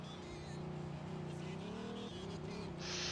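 Car engine droning with tires squealing under braking in Mafia II, a sustained tonal whine with shifting pitch and a brighter hiss near the end.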